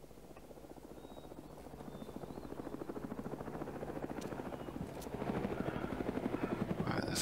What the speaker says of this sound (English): this helicopter's just going to keep on circling